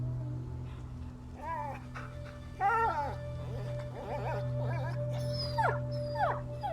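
Dog Lion whimpering and yipping in the video game A Plague Tale: Innocence, a string of short high whines over a steady low hum of game ambience.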